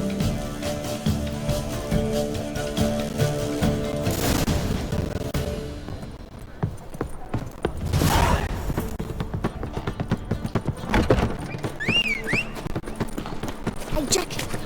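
Horse hooves clip-clop in a steady rhythm in The Witcher 3: Wild Hunt, mixed under game music, a booming impact and characters talking, with a brief whinny-like cry later on.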